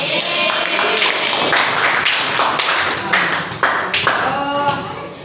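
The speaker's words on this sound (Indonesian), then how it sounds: "Tepuk tangan untuk kalian semua." A classroom of students claps for the groups, a dense patter of overlapping hand claps with scattered louder slaps, steady and close, with a voice mixed in.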